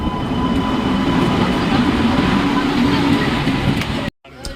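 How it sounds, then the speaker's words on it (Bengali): A toy train pulls in at Malda water park, its wheels rumbling and clattering steadily and loudly nearby before cutting off abruptly near the end. "ফাইনালি আমাদের ট্রেন চলে এসেছে।"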